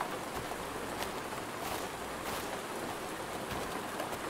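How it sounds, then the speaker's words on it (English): Steady rainfall in the video game Road to Vostok, a dense continuous hiss of drops pattering on surfaces, even and unbroken throughout with a few faint bird calls in the background. "I want to see how the rain sounds when we're inside."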